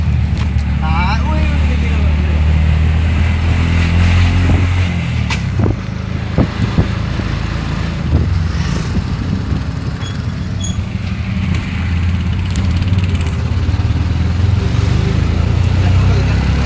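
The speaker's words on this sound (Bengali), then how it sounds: "আমাদের আরেকটা টিম যাচ্ছে একদম এই অটোতে।" A steady low auto rickshaw engine rumble runs throughout in Haflong, with traffic noise and scattered clanks around it, and faint voices now and then.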